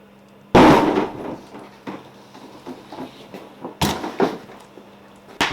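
Gunshots ring out in a film scene, several sharp loud cracks with quieter thuds and rustles between them, no voices.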